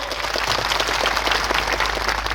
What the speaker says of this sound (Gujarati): આજે આ મંચ પરથી એમના માટે જોરદાર તાળીઓ પાડી લો.